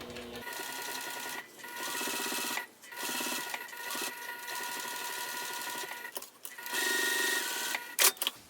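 Sewing machine stitching a crossbody bag, running in several bursts with short pauses between, close and steady, with a louder final stretch and a couple of sharp clicks near the end.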